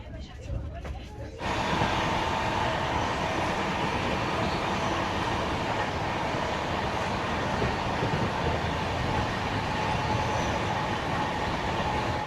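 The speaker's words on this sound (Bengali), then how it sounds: "ট্রেন ছেড়েও দিয়েছে।" The Howrah Puri Shatabdi Express pulls out of the brief halt at Jajpur Keonjhar Road, heard from inside as a steady, loud rolling rumble and rattle that swells in after a quieter moment, with faint voices in the carriage.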